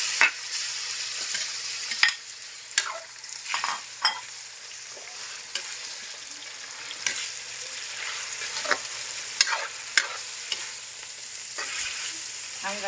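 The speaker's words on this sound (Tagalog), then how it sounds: "Ilagay ko na tong chicken." Chicken pieces fry in a hot pan for pancit, giving a constant close sizzle broken by repeated scraping stirs at an uneven rhythm.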